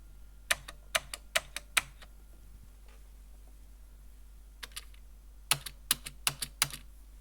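Typing on a computer keyboard fitted with new keycaps: two quick bursts of close, crisp key clicks separated by a pause, quiet and alone over a low steady hum.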